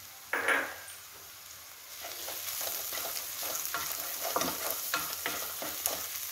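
Onions stirred in a hot pan with chili powder and coriander powder, a close sizzle under repeated scraping spoon strokes in a loose rhythm, after a brief clatter at the start.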